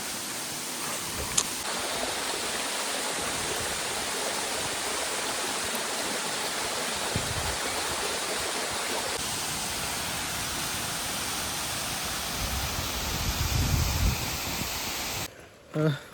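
A waterfall and mountain stream rush steadily on a monsoon hill trek in Konkan, a dense continuous roar of flowing water close by, with a brief bump near the end.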